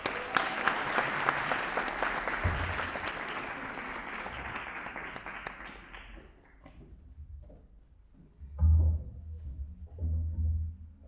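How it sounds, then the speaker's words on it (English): An award ceremony audience claps loudly for several seconds, the applause gradually thinning and fading out, followed by some low rumbling handling noise and faint indistinct voices. "Please, let's give her another round of applause."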